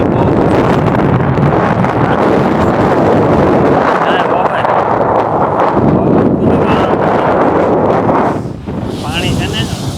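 Cold wind roars across Rostock beach on Germany's Baltic coast, buffeting the microphone in loud, continuous gusts mixed with surf, easing slightly near the end.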